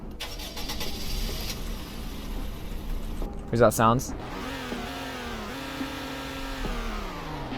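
Car engine in Roblox Greenville cranking and catching, with a brief burst of revving that settles into a steady idle under a voice.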